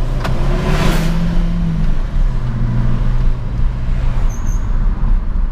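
A Volkswagen Fox 1.6 with an automated gearbox accelerates in the cabin with a loud engine hum and road noise, and the engine note rises and shifts pitch as it pulls away.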